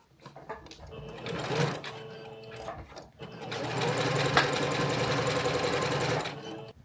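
A sewing machine runs a wide zigzag stitch through fabric while making a carrying bag. It whirs in short bursts at first, then settles into a longer steady run of close, rapid stitching.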